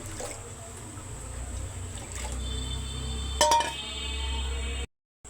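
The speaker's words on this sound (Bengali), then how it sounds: "ডালগুলো ধুয়ে পাতিলে দিয়ে দিলাম" Washed lentils are tipped into a cooking pot, with a low trickle of water and a brief clatter of metal clinks partway through, close and moderately loud.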